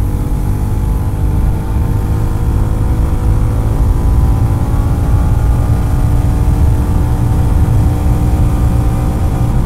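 A Royal Enfield Goan Classic 350 motorcycle with a 350cc engine accelerating hard in third gear toward about 100, its steady loud engine drone and exhaust rumble continuous and close, with no talking.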